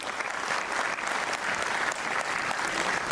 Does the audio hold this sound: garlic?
no